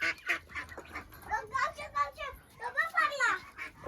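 Ducks quack and honk repeatedly at close range in a rural village, mixed with children's voices talking over the birds.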